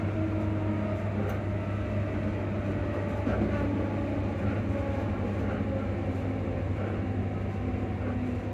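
A passenger train approaching Livingston North station gives a steady low rumble and hum from inside the carriage, even and continuous throughout.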